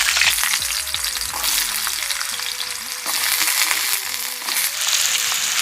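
Cut, washed potatoes frying in hot oil for aloo do pyaza, a steady close sizzle with intermittent stirring clatters throughout, no talking.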